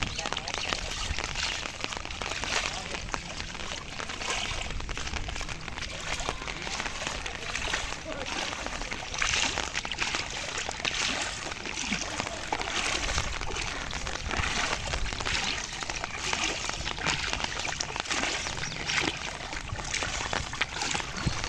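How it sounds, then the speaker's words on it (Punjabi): Fast-flowing floodwater rushes through a flooded residential area in Hoshiarpur, a loud, continuous broadband roar that stays steady throughout, with some talking faintly under the water noise. "ਬਹੁਤ ਤੇਜ਼ ਪਾਣੀ ਚੱਲਦਾ ਯਾਰ"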